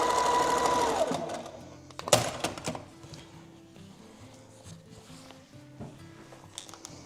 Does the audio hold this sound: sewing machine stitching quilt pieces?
yes